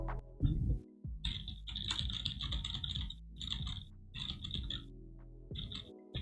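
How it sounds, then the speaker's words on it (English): Quiet, close computer keyboard typing picked up by a Razer Seiren Elite microphone right next to the keyboard, a busy patter of clicks in bursts with brief pauses between them. "this is how much keyboard clicking is being picked up by this microphone when it's right next to the keyboard"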